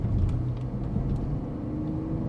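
A low, steady rumble from a BMW E46 car while driving, a faint, continuous drone with a muffled cabin feel and no talking.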